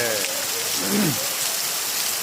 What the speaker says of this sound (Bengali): এটা কল্পনাও করতে পারবেন না যে এত বৃষ্টি নামতেছে এই দেশে